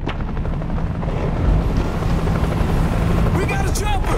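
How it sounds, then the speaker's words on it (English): A helicopter thunders steadily in the zombie shooter World War Z, a dense, loud rotor roar with people talking over it. "We got a chopper! It's headed over the river."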